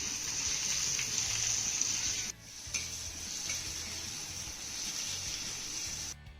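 Chopped onion sizzles steadily in oil on an iron griddle, a constant hiss with soft scraping stirs and a brief pause midway.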